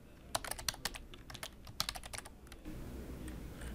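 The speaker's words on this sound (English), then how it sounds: "You can also search for a specific report by clicking in the Look For field, typing search criteria" Search criteria are typed on a computer keyboard in quick, close, crisp key clicks forming an uneven burst, followed by quiet room hiss once the typing stops.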